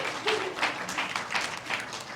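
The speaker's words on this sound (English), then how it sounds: "Those are my students, by the way. They're required to clap." Students in an audience at a panel event on national security and social media applaud, producing steady, moderately loud clapping that continues evenly without voices.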